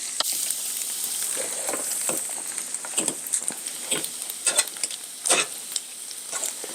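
Tofu cubes frying in a pan in an uncrowded batch, a close, crackling sizzle with bursts of popping and spatter that rise and fall.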